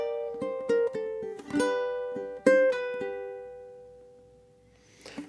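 Ukulele plucking measure 8 of a slow blues, with a handful of bright, ringing notes and strummed chords in a loose triplet rhythm, then a long decay into near silence and a faint final brush; close and alone.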